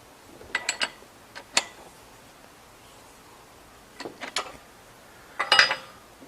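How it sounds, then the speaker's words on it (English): The clamp screw on a Ridgid 141/161 geared pipe threader is tightened, giving a few short clusters of faint metallic clicks and ratcheting ticks over a quiet background hiss. "now I'm going to tighten up the clamp screw."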